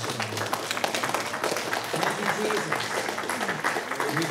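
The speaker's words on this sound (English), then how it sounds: "let's give the Lord a hand clap" A church congregation at Alabaster House claps hands together in a steady, lively wash of applause, with a voice speaking over the clapping throughout.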